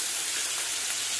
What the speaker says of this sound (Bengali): এখানে তেলের মধ্যে দিয়ে দিল 5 ফোড়ন, শুকনো লঙ্কা, এরপর এর মধ্যে দিয়ে দেব আলু